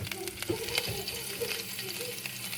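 Finely chopped green chillies frying in oil with cumin for egg bhurji, a close steady sizzle with light stirring scrapes, fairly quiet, with a faint voice nearby.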